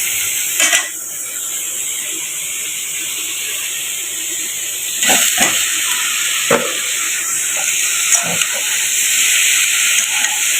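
Turmeric and taro stolons frying lightly in a pan, a continuous hissing sizzle with a high steady tone, punctuated by scattered clinks and scrapes of a utensil against metal.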